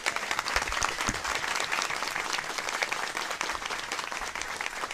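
Sustained audience applause at a civic gathering marking a manifesto for the dignity of children and adolescents, dense steady clapping from a large crowd throughout, fairly close and even in level.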